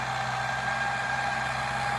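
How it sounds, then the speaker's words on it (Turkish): Steyr 768 tractor engine running in a hilly field being plowed, a steady, even drone with a low hum and a higher whine, continuous and fairly close, with no talking. "İşte 768. Güçlü bir traktör."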